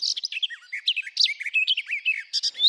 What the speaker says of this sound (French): La fauvette.